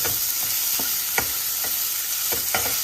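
Sliced onion and green chilli frying in oil for an aloo tomato curry: a steady, close hiss of sizzling, punctuated every half second or so by soft scraping stirs, with no speech.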